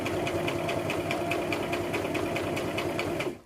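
A sewing machine runs a straight stitch through a double-layer pleated fabric face mask, its rapid, even mechanical chatter steady and close for about three seconds before stopping abruptly.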